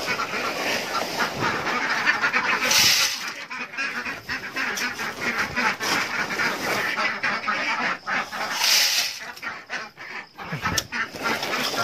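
A flock of ducks quacks noisily and close by, a dense, continuous chorus of overlapping calls with a few louder bursts standing out, and no voices.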